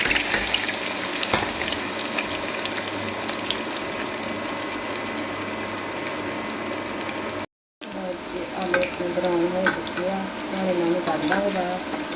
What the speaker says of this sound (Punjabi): ਆਪਾਂ ਆਲੂਆਂ ਨੂੰ ਪੈਨ ਵਿੱਚ ਤਲ ਲਾਂਗੇ ਤੇਲ ਵਿੱਚ